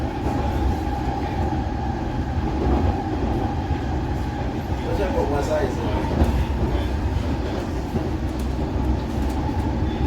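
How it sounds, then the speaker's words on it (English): Continuous low rumble of a moving London train carriage with rhythmic rattling and clacks, steady and close, with faint voices mixed in underneath. "Train kind of bumpy"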